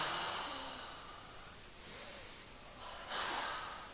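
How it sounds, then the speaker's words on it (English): Slow, audible breaths during an extended side angle yoga pose: a few soft inhales and exhales spaced over several seconds, close and fairly quiet. "2 breaths here."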